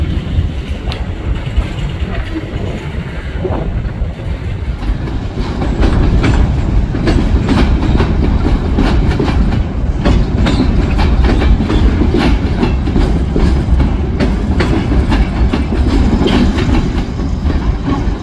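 A freight train at Enola Yard departs past a bridge, its cars rolling by loudly and continuously with steady clickety-clack of wheels on rail joints that grows heavier partway through.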